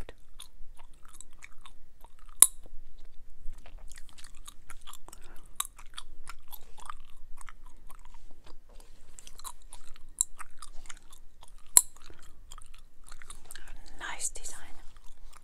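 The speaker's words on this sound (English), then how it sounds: "Orbit is a great snapping gum." Orbit spearmint gum is chewed close to the mic with soft wet smacking and a few sharp snaps. The sounds come in scattered bursts, with faint whispering in places.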